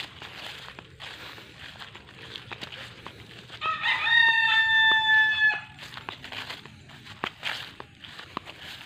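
A rooster crows once, loud and clear in the middle, amid scattered clucking and light rustling footsteps of wild chickens near domestic chickens.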